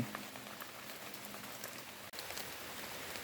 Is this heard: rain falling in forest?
yes